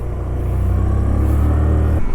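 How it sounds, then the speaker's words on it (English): A Hero Destini 110 scooter engine hums steadily while riding, a loud, close low drone that holds even for about two seconds before it cuts off. "let's go for a short ride on the Hero Destini 110"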